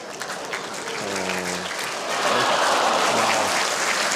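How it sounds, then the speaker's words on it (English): An audience at an indoor bowls championship breaks into steady applause, moderate in volume and swelling slightly partway through, with a faint voice underneath. "Suzanne, little clap."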